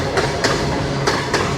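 Close by on the railway track near the Dudhsagar waterfall trek, a train rumbles past, a loud steady roar with rhythmic clacking bursts from the wheels.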